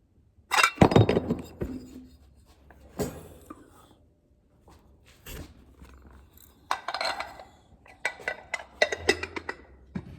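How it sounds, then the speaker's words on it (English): Glass items, including a glass candy dish, clink and knock together in scattered bursts, a loud jumble near the start, then lighter taps and rattles with quiet gaps between. "Candy dish, right?"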